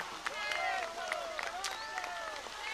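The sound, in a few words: crowd applause at monument unveiling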